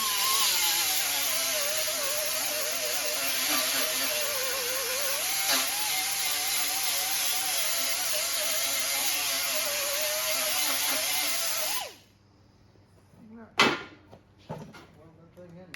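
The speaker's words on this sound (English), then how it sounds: "Weld that thing in there." Arc welding a patch panel into the front sheet metal of a 1961 Chevrolet Impala hardtop, a steady crackling buzz running continuously for about twelve seconds, then stopping abruptly before a few short clicks and clanks.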